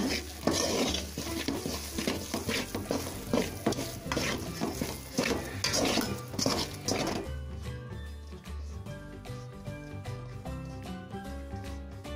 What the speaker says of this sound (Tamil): நெய்யை ஆட் பண்ணி கிளறி விட்டுக்கிட்டே இருங்க